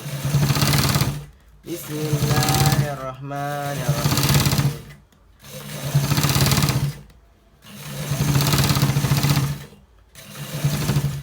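A sewing machine stitches a designer collar shirt in loud, steady runs of several seconds each, broken by short pauses between bursts, with brief voices in between.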